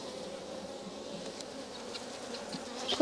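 Honey bees buzz steadily around an open farm hive during the first spring inspection, a continuous close-up drone of many wings with faint handling noises near the end.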